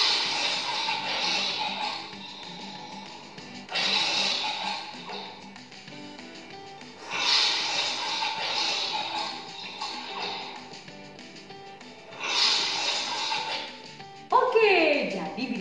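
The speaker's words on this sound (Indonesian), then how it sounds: "itu adalah suara singa" A lion's roar and growls played for an animal-sound lesson, with several loud, long roaring bursts separated by quieter rumbling stretches, followed by a falling snarl at the end.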